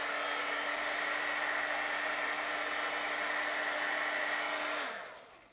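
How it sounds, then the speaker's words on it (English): A heat gun blows a steady, loud broadband whoosh with a faint motor whine while warming cold steel for color case restoration, running alone for nearly five seconds before switching off and spinning down. "I'm going to heat it up just a little bit with a heat gun"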